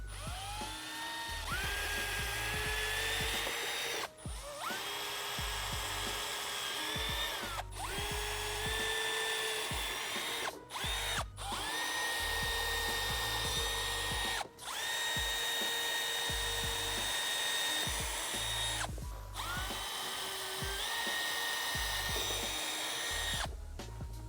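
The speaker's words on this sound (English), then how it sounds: "we can use a 1/4" drill bit and we can go ahead and make our through holes." A power drill with a 1/4 inch bit bores through holes for a Z1 Off-Road Molle panel on a Nissan Frontier rear door: about six loud whining bursts, each rising as it bites, separated by brief pauses.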